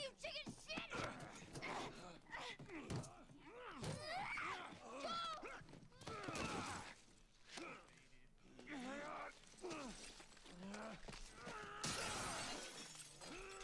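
Glass shatters in The Last of Us in a school building, sharp breaking crashes heard amid groans and frequent talking, with a loud burst near the end.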